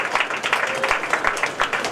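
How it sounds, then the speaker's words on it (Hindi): An audience at a school event for new trustees claps in a brisk, uneven patter of many hands, with a faint voice underneath. "Yes, a loud round of applause"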